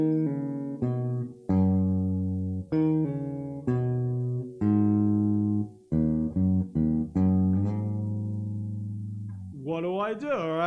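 A short guitar passage from the interlude of a song, with sustained, ringing notes and chords, played alone at moderate volume, ending in a wavering bend.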